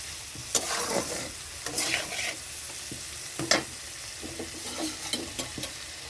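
Tomato and potato being sautéed in a pan for a pabda fish curry, with steady sizzling and periodic stirring scrapes at a close distance, no talking.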